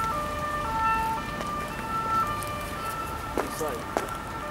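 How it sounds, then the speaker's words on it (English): An ambulance siren wails at a distance in a street setting, its tones rising and falling steadily under low background noise, with a couple of faint knocks near the end. "Ambulance?"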